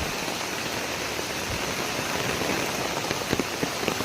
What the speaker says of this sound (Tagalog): Nandito po ako ngayon sa loob ng gubat at ako'y naabutan ng ulan.